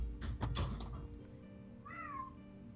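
Muffled thumps and bumps come first, then a cat gives a single clear, rising-and-falling meow, fairly close.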